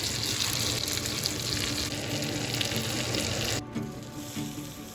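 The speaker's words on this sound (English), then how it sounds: "here's a little obligatory butter bubbling ASMR" Butter bubbling and sizzling in a hot pan while a steak sears, a steady loud frying hiss for several seconds that drops off abruptly near the end.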